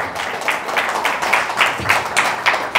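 A church congregation at Sunday worship claps in a quick, steady rhythm, many hands together in a lively, fairly loud and close burst with no talk over it.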